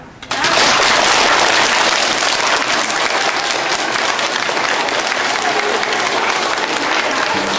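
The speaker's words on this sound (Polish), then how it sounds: "I jeszcze raz wielkie brawa." Loud, sustained applause from a school audience at an Independence Day celebration in a primary school, starting abruptly and holding dense and even for several seconds.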